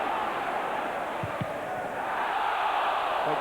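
Large football crowd at a Tottenham v Arsenal Premier League match, a sustained roar of spectators appealing loudly for handball, dense and continuous throughout with a slight swell toward the end.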